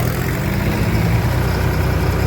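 A heavy tractor engine idles steadily with a low, rumbling drone, continuous and fairly loud throughout, with no voices.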